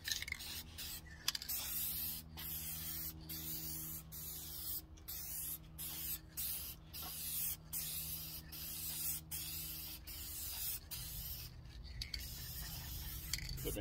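Aerosol spray hisses in repeated short bursts as coats are applied to the webbing of car seat upholstery in a 1967 Mercury Cougar, close and steady, with no talking.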